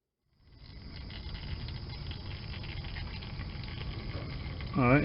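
Engine oil pours from the drain hole of a C6 Corvette's oil pan, a steady close gurgling, splattering stream that starts abruptly after a brief silence and keeps running evenly throughout.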